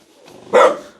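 A single loud, close dog bark rings out alone in a quiet yard at a house, one sharp burst after faint background noise.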